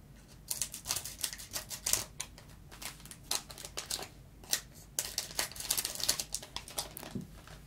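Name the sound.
opening a Pokémon booster pack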